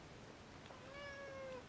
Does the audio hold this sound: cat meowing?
yes